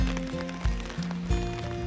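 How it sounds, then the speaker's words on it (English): Steady rain patters down during a hike along the West Highland Way beside a long, narrow Scottish loch. A continuous wet hiss sits under low rumbling noise and a few soft thumps, with no talking. "looks like we're gonna be off and on in the rain all day long."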